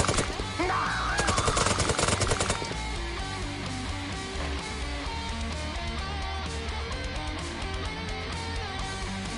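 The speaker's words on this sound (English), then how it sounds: "That's a light autocannon that can see us." A light autocannon in the Xpiratez mod of X-COM opens up with a rapid, loud burst of gunfire early on, followed by ongoing rumbling game sound effects and music.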